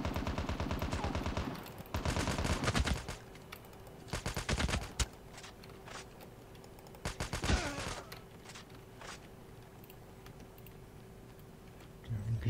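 Automatic gunfire from a Call of Duty Mobile match comes in several bursts of rapid shots, some loud and close, separated by quieter gaps with faint ticking.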